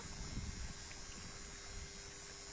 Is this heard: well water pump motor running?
yes